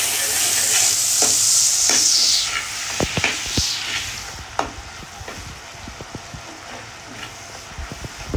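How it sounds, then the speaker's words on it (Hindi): Tomatoes and green chillies hit a hot pan with a loud sizzle that fades to a steady fry, punctuated by spoon scrapes and stirring clatter close up. "अब डाल देते हैं हम टमाटर और हरी मिर्च। इनके साथ डालेंगे हम नमक"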